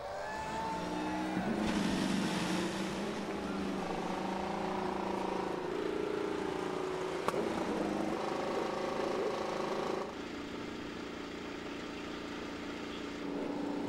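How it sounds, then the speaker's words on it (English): IndyCar race car engines starting up on a street circuit at the Long Beach Grand Prix, a steady layered roar of several engines idling and revving at a distance, with shifting tones and no talk. "Those engines coming to life."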